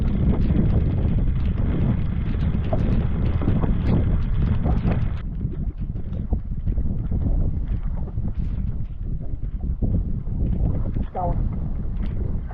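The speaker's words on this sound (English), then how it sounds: "that is like a really good wind" Strong wind buffeting the microphone out on Mosquito Lake during a bass fishing tournament, a loud steady rush with a boat motor running and a voice speaking over it.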